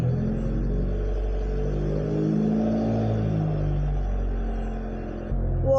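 A car engine runs stationary in a steady, close, low rumble to warm the DSG transmission fluid, the drone holding even before a slight dip and a brief shift near the end.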